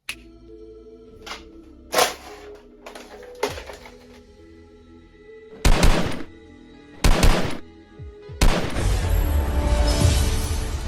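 A Nerf blaster firing foam darts in a room, with several short sharp snaps and bursts spaced a second or two apart, close and loud, ending in a longer rattling burst.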